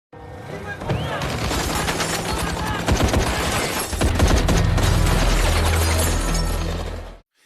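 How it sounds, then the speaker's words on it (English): A dense, loud burst of rapid gunfire with crackling impacts and some shattering, sustained for several seconds over a low rumble. "the gang's car returned, and without warning, gunfire erupted"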